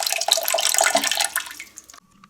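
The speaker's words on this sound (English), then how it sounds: "there's a little button over here which when you push will drain the water" Water draining from a SmartBidet SB 3000 bidet attachment's water compartment, a steady rushing gush that tapers off and stops abruptly near the end.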